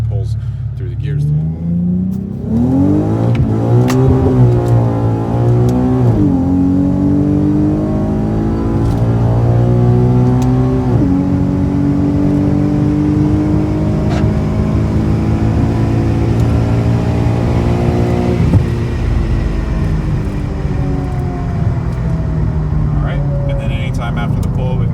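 A car strapped to a dyno makes a third-gear pull during remote tuning, its engine revving loud and steady with a rising, droning pitch that holds for the full length.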